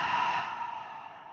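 A long, soft breath out during a beginner yoga flow, close and airy, fading gradually over more than a second with no talk.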